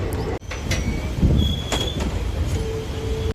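Passenger train number 59228 running from Bhavnagar to Surendranagar, a steady rumbling rail noise with rattling wagons and brief squealing wheel tones, heard close and loud throughout.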